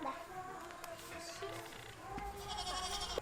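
A goat bleats in a village setting, with wavering cries rising over background chatter and people talking nearby.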